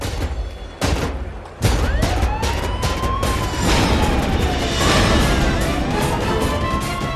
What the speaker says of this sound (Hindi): पुलिस, ये तो पुलिस की गाड़ी है।